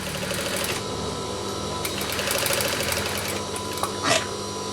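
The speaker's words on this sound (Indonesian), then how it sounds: "Kemudian kita lanjut menjahit." A sewing machine stitching a three-layer fabric mask, a rapid mechanical whirr of needle strokes running in steady bursts with brief pauses and a small clunk near the end, close by and without talk.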